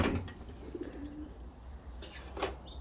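Young racing pigeons softly cooing inside a loft with a wire-mesh aviary in England, faint and low against steady background noise, with occasional brief chirps.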